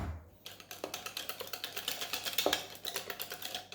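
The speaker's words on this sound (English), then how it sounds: "I'm gonna get a whisk and I'm gonna blend that nicely." A whisk beats keto pumpkin spice cake frosting in a bowl, making a quiet, quick rhythmic series of ticking, tapping strokes against the bowl, close by with no talking.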